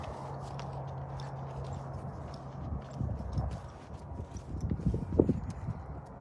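A horse is ridden at a ranch, its hooves clip-clopping in an uneven walking rhythm over steady low background noise. The footfalls grow a little louder and more distinct toward the end.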